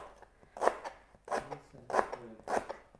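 A knife slices through firm lemongrass on a board in a home kitchen while chicken laksa is being prepared, four crisp fibrous cuts in a slow, even rhythm, close and clear with no talk.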